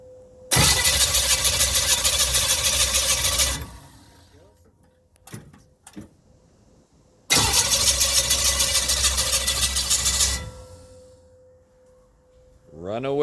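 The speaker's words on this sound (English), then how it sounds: "First start." A V-drive power boat engine cranks and fires on its first start, two loud sustained bursts of about three seconds each with a quiet gap between, voices talking in the pauses.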